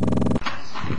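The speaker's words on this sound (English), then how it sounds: "Oh, nice dog you got there." A dog's low, grumbling vocalization close up, a brief growl-like rumble that shifts abruptly partway through.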